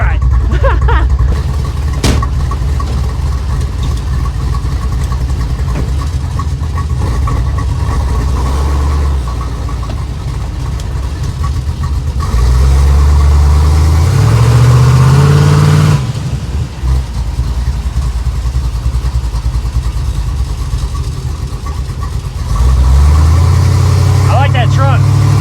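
A 327 hot rod V8 with a poorly running carburetor rumbles in a truck on its first drive, idling and revving in loud swells, with people talking over the engine.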